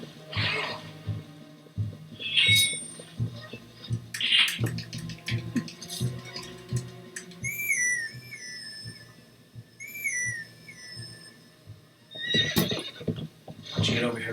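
Horse neighs and whinnies from Zelda: Twilight Princess on the Wii, with several rising whistle-like whinny calls mid-clip and hoof clip-clops, heard amid game music and sound effects, with talk over parts.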